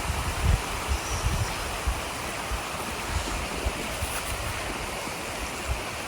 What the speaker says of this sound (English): Water source. Nice one too. Strong one.